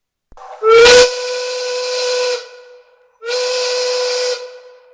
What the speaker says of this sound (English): the factory whistle has sounded